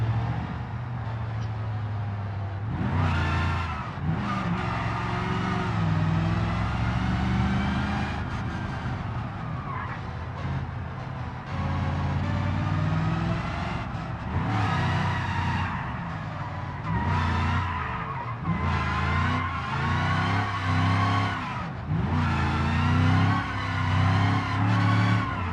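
A high-performance car engine in the BeamNG driving game revs hard and repeatedly, with loud rising and falling acceleration, gear changes and tire squeal across a long chase.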